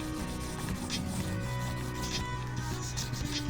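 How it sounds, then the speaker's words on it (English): Soft, steady rubbing of paper to shade a window drawing, a continuous gentle scratchy friction sound over faint background tones. "A little more rubbing."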